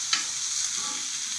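Green chillies, mint and garlic sauté in hot oil for a chutney, giving a bright, continuous close sizzle with one small clink at the start.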